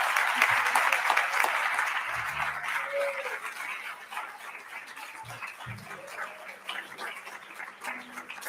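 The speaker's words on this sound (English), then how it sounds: "So let us give a round of applause" An audience at a medical graduation ceremony applauds steadily, a soft, distant wash of many hands clapping that gradually thins over several seconds.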